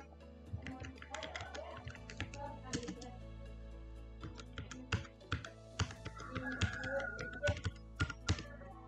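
Keys clatter on a computer keyboard while names and student ID numbers are entered, in quick irregular bursts of tapping with short pauses, close and moderately loud.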